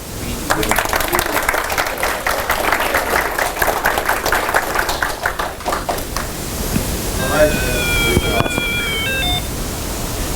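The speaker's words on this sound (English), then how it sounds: "Please clap." Audience clapping at a retro Apple II computer convention session, a steady burst of applause lasting several seconds before tapering off, followed by beeping electronic game sounds from a computer.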